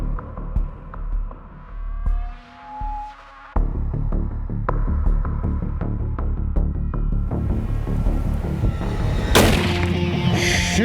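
A single sharp crack from a .270 lightweight hunting rifle on an Eastern Cape safari, cutting through heavy, constant gale-force wind roar that dominates the scene.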